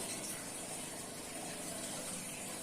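Air from an aquarium aerator passes through a small regulating valve into water, producing a continuous soft rushing and bubbling hiss that stays even and fairly quiet.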